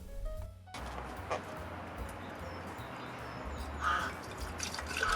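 A 15% sodium perchlorate bleach is poured from a giant container into a jar outdoors, giving a faint, steady liquid pour with light drips and occasional distant bird chirps.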